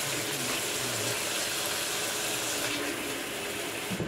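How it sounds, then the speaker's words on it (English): Tap water runs steadily into a kitchen sink while fresh herbs such as basil and spinach are rinsed for a salad, a continuous close wash with no talking. "I'm gonna wash my herbs, the basilic and other herbs, and the spinach for the salad"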